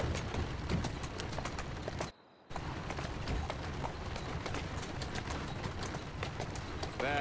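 Steady clip-clop of horse hooves at a running pace, continuous and fairly loud, broken by a brief silence partway through, in the video game Assassin's Creed Syndicate.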